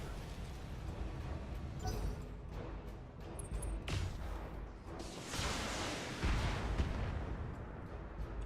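Heavy mech weapons from a BattleTech battle fire in a sustained barrage of booming blasts and rushing impacts, dense and loud throughout with no talk.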